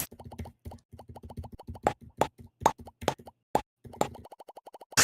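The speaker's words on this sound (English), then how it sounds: "This mouth pop should not sound as good as it does." Mouth pops from a sound sample library, a rapid series of short, bubbly plops in uneven bursts and rhythmic runs, close and crisp, some brighter and louder than others, no voices.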